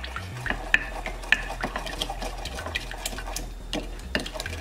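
Pumpkin seeds being stirred with Worcestershire sauce and cayenne pepper in a bowl or pan, giving a close run of irregular scraping and clinking strokes with a few sharper taps, with no voices.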